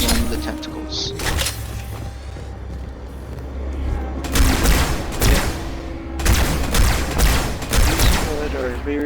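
Bursts of gunfire in the Halo 2 video game, volleys of shots with booming impacts rolling over constant background noise, heavier clusters near the middle and end.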